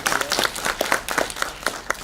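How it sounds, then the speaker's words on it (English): An audience at a hospital postgraduate training session gives a round of applause, brisk uneven clapping from a small group, close and fairly loud, lasting a couple of seconds. "Give me a big round of applause."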